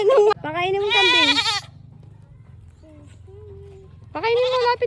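Goats bleat loudly and close by, with one long wavering call, then quieter sounds, and another bleat at the end.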